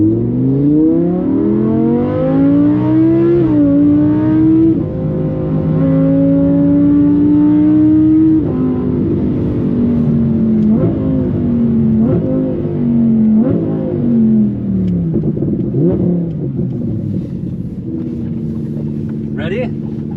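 A tuned car accelerates hard at full throttle, its engine note climbing through several gears with brief dips at each shift, loud and close from inside the cabin, with no talk over it.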